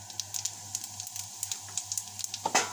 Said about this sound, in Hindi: और थोड़ी देर इसको फ्राई करेंगे।